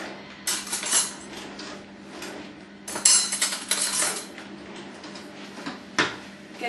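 Butter knife fetched and handled in a home kitchen: bursts of metallic clattering and rummaging through cutlery, a drawer-like rattle, and a few sharp clinks spread over several seconds, fairly close.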